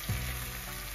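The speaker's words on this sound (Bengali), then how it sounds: "একটু বাটার দিয়ে টুনাটাকে একটু ভেজে ভেজে নিব" Tuna frying in butter in a pan makes a soft, steady sizzle, faint and brief, with no talking.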